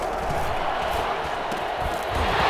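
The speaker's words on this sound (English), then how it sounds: "as this crowd rises to make things difficult" Stadium crowd at a football game rising in a dense, loud roar of cheering during a late two-point attempt, with a commentator speaking over it.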